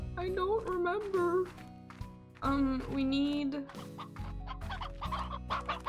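Chickens in the video game Slime Rancher cluck and squawk continuously at close range, with a mix of short calls and longer drawn-out cackles.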